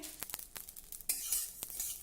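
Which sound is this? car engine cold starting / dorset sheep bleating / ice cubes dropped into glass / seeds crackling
seeds crackling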